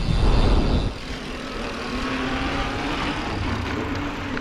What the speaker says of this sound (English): I'm noticing the noise that this Bosch motor is making a lot more now